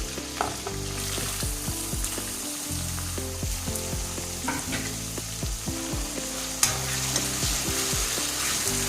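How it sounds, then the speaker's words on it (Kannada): Onions frying in a pan for methi paneer masala, a loud, steady close sizzle broken by frequent clattering spoon-and-pan stirring knocks, with no talk. "ಈರುಳ್ಳಿ ಚೆನ್ನಾಗಿ ಫ್ರೈ ಆಗಬೇಕು"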